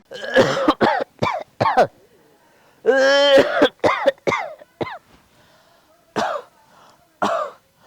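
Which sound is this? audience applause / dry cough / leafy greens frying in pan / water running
dry cough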